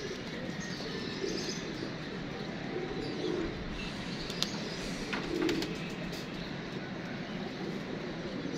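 Pigeons cooing in a loft or rooftop coop, a few soft low coos spaced apart over a steady background hum with faint chirps.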